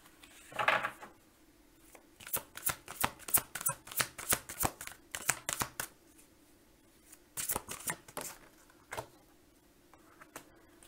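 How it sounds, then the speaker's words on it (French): Playing cards shuffled and drawn for a tarot-style reading, with a quick flurry of crisp riffling snaps, a pause, then another burst and a few single card flicks, close and fairly quiet with no talking. "je vais vous tirer une carte"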